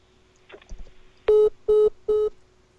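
Three loud, identical electronic tones repeat evenly after a phone call drops, each about a quarter second long with short gaps between, following some faint rustling.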